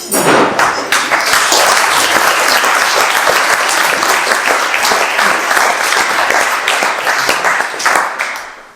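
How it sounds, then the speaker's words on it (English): Loud, sustained applause from a wedding crowd cheering bride and groom Joe and Laura, dense steady clapping filling the room for the full stretch before tapering slightly at the end. "a huge round of applause for Ian, Joanne, Martin and Stella, and of course Joe and Laura, the bride and groom"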